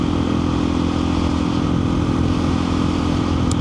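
A KTM 500 EXC-F single-cylinder dual-sport motorcycle cruising on paved country roads, its engine droning steadily and loud up close with a constant rumbling tone and wind rush, no voices.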